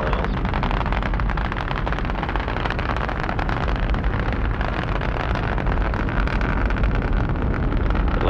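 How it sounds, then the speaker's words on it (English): Space Shuttle Atlantis engines roar during launch on its 13th flight, a dense, loud, continuous broadband rumble with crackling texture and no voices. "Atlantis is underway on its 13th trip to space"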